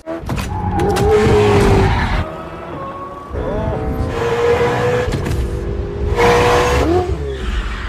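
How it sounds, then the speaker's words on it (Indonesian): A Ferrari driven hard like a race car in the 2024 action film Weekend in Taipei roars loudly, with repeated screeching tire squeals and skids over a revving engine and gear changes. "Jago kali rupanya si Joy ini weh, macam pembalap bawanya."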